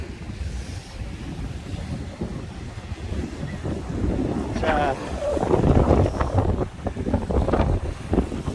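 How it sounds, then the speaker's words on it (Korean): Strong wind gusts buffet the microphone at a seaside fishing spot on the East Sea coast with high waves, a steady rumbling roar that swells louder in the second half. "바람하고, 바람이 터져가지고요"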